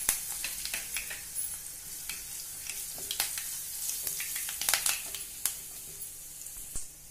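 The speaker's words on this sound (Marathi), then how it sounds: "कारण जिरं पटकन तडतडतं। हिंग घालते आहे, हळद घालूया, कडीलिंबाची पानं," Cumin, asafoetida, turmeric and curry leaves sizzle in hot oil with mustard seeds for a capsicum panchamrut tempering: a close, steady hiss studded with sharp crackles and pops throughout.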